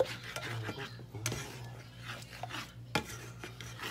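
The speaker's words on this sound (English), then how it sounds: "Now I put it back on and I continue to kick the eggs" Eggs being stirred in a pan for breakfast, a close, scraping rasp of a utensil against metal with irregular sharp knocks and rubbing strokes, no talking.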